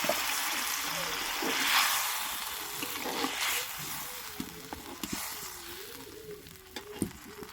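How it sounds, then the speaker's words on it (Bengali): About a cup of water poured into a pan of bubbling egg curry, giving a steady close sizzle and frying hiss with faint trickling and stirring throughout, loudest near the start and easing off later. "এখানে আমি 1 কাপ মতো জল দিচ্ছি।"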